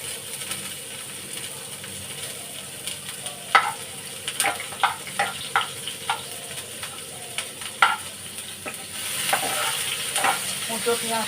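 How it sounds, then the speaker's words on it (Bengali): Chopped onion frying in a pan for an egg curry, giving a steady close sizzle broken by irregular scraping stir strokes and spatula clicks, with no voices. "কুচো পেঁয়াজটা ভাজা ভাজা করে নেবো"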